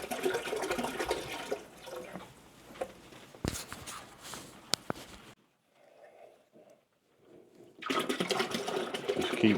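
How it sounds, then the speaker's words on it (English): Water runs steadily into a 5-gallon water dish on a rat rack, a continuous splashing stream that cuts off midway, leaves a quiet gap, then resumes. "we top off the water dish. This water dish will hold 5 gallons, and we fill it up"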